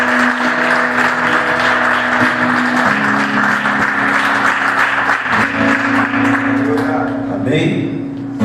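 Church congregation clapping in sustained, dense applause that fills the room, with a voice and low music continuing over the clapping before it fades out.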